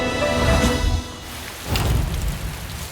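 Heavy rain pours down steadily outdoors, a dense loud hiss with a brief dip midway before surging again, no voices.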